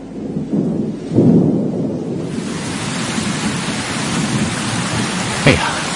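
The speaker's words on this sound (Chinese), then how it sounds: "怎么突降暴雨？" Sudden heavy rain from a thunderstorm, a dense steady downpour that swells after the first couple of seconds, with a low rumble early on and a brief sharp crack near the end.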